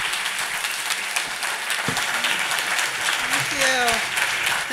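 Sustained applause from an audience fills the room, steady and broad, with a voice briefly audible over the clapping.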